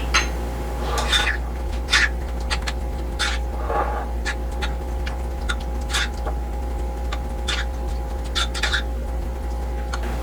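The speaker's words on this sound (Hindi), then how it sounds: "इन सब चीज़ों को हम अच्छे से मिक्स कर लेंगे" Chicken being mixed by hand with tikka masala, red food colour and cooking oil in a bowl, giving soft wet squelches and occasional light clinks. A constant low hum runs underneath and no one speaks.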